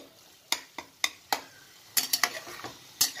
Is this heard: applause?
no